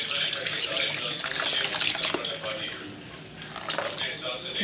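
Half a litre of poppy seeds being rinsed and stirred in water in a home kitchen, a continuous sloshing, splashing wash sound with light squishy handling throughout.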